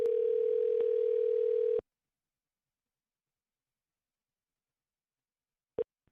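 A telephone line sounds a steady call tone for about two seconds while someone phones a caller back, cutting off abruptly; after a long silence, one short tone blip follows near the end.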